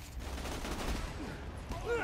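Gunfire in the video game Borderlands 2, a dense fusillade of rapid shots running steadily through two seconds, with faint voices mixed in underneath.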